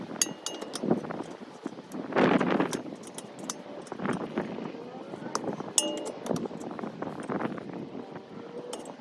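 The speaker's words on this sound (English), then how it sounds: "First step to do is remove this nut, which will first start with removing the cotter key right there" Small metal clinks and taps from pulling a cotter pin out of the castle nut on an outer tie rod of a 1991 Mazda Miata, close and irregular, with a denser burst of handling noise early on and no talk.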